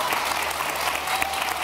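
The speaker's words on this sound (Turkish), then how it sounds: "Alkışlarla açtık" Studio audience applause on a Turkish TV panel show, a dense, steady wash of many hands clapping close and loud for the full stretch with no pauses.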